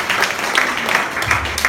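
Audience applause at an indoor insurance agents' gathering, a steady dense wash of clapping with scattered sharper claps, running the whole time with some faint low murmuring underneath toward the end.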